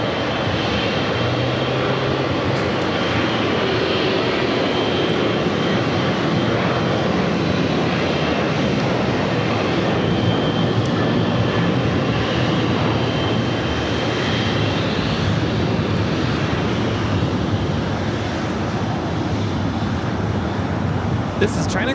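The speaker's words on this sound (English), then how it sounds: "This is China Cargo Airlines 221 coming in from Shanghai on a 777 freighter." China Cargo Airlines Boeing 777 freighter landing at LAX, a steady loud broadband engine roar lasting throughout with a voice talking over it.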